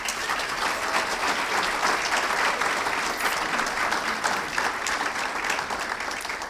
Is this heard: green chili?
no